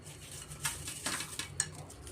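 A spoon stirs fried bread cubes into vegetable bread pulao in a pan, giving soft scraping and a few sharp clinks against the metal at close range.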